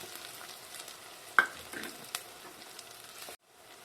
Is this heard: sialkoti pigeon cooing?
no